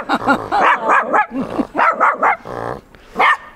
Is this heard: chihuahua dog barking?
yes